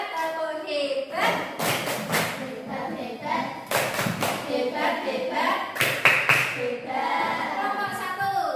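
A classroom of children performs a rhythmic clapping game, with bursts of patterned claps in quick sets and chanting voices over them, close and fairly loud.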